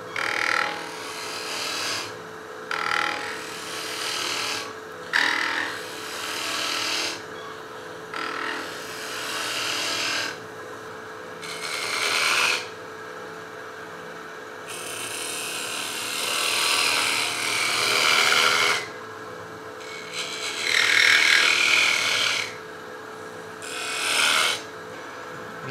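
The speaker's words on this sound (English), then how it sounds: "I can come in and do a shear scrape to clean it up a little bit." Hand tool scraping a spinning wooden kalimba body on a lathe in shear-scrape passes, a raspy hiss that comes in repeated bursts of a few seconds with short pauses, steady machine hum underneath, no talking.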